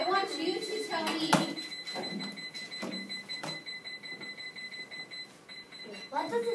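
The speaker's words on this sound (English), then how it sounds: "It's just beeping." Electronic beeps sound steadily at a high pitch, a continuous tone running beneath intermittent speech and a few sharp clicks.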